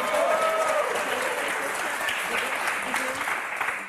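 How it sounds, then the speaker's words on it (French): Sustained studio audience applause on a French TV game show fills the whole stretch, steady and fairly loud, with a faint voice or two showing briefly near the start. "Et un tonnerre d'applaudissements pour Neil et Simon, s'il vous plaît."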